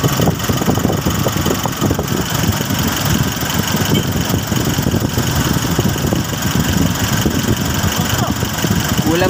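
A Nissan NV350 van engine idles steadily after its EGR valve and throttle body were cleaned, a continuous close mid-pitched rumble with faint background voices.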